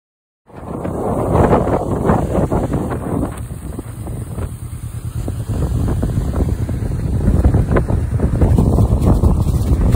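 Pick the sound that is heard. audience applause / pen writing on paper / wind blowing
wind blowing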